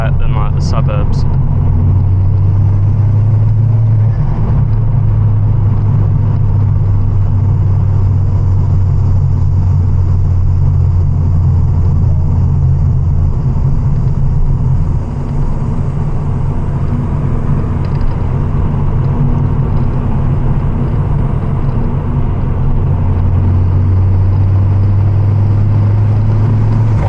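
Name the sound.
Ford Focus ST MK2 turbo car driving on forest road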